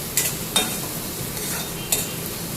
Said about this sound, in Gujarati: તેલમાં ધીમા ગેસે ચડવા દેવાનું